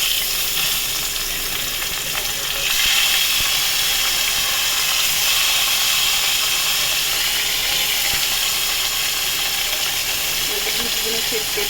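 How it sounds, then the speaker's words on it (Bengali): Katla fish belly pieces fry in hot oil with a loud, steady, unbroken sizzle that holds constant throughout. "এবার এখানে মাছের পেটিগুলো ভেজে নেব।"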